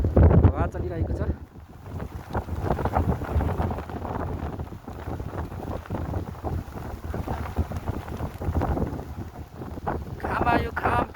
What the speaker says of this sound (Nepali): एकदमै हावा चलिरहेको छ।